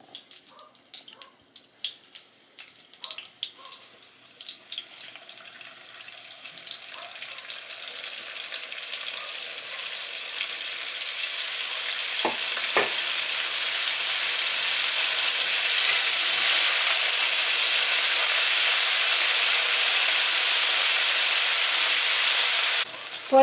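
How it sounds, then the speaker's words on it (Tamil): Cuttlefish drops into hot oil and a loud, steady frying sizzle builds up and continues, with a few clinks and stirring sounds early on. "இப்போ எண்ணெயும் கொதிச்சுட்டு நான் போட போடுறது."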